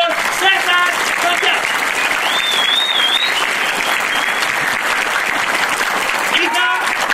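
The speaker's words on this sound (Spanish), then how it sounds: "quiero que le den un fuerte aplauso al señor César" Steady applause from a party crowd at a quinceañera celebration in Chalcatongo, sustained and fairly loud throughout, with a few shouts and whistles rising over the clapping.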